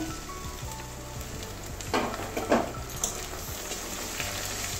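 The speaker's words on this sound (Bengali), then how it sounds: "কাঁচা লঙ্কা যাওয়া পর্যন্ত ভাজবো আদা রসুন" Ginger garlic paste fries with onions in a pan, giving a steady close sizzle with a few sharper crackling bursts as it is stirred, and no talking.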